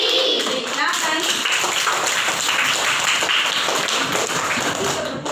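Classroom of children clapping hands together during a lesson on prepositions, a dense, sustained patter of many small hands at close range, lasting the full stretch with voices mixed in.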